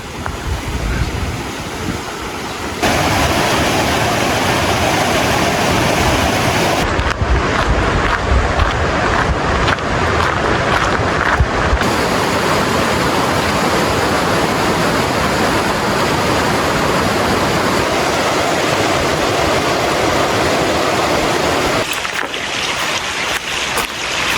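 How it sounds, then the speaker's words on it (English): A river rushes beside a packed dirt trail in the Great Smoky Mountains, a steady loud broadband roar of flowing water with wind buffeting the microphone, continuous throughout with no talk. "So the river is now on the right-hand side of the trail."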